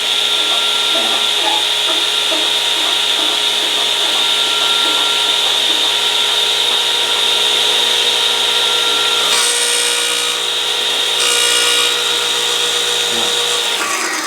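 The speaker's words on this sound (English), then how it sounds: "Start the Radial Arm Saw motor and lower it" Radial arm saw motor running steadily with a strong whine, the blade lowered into a board of wood for a jointing cut; the tone holds even, with brief rougher bursts near the end.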